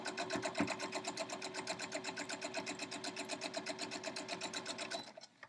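Sewing machine stitching a scrappy quilt heart block while its bobbin runs low: a steady, fast, close mechanical whir with rapid regular needle ticks, running alone for about five seconds before it stops.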